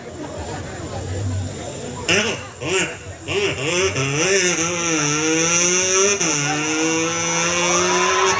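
A Yamaha motorcycle circling inside a well-of-death cage at a fair revs hard, its engine pitch sweeping up and down in repeated loud surges, with voices in the background.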